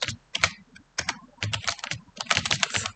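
Keys on a computer keyboard clatter in quick, irregular bursts of clicks with brief pauses between them, close and clear with no voices.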